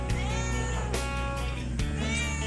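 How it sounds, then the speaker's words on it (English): A cat meows repeatedly in drawn-out, tonal cries, close and loud, with a brief pause between calls and no talking. "What you doing, meowing?"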